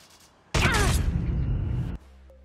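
A short loud burst of gunfire in the video game Call of Duty: Mobile, about a second and a half of dense rapid shots that stop abruptly, no talking.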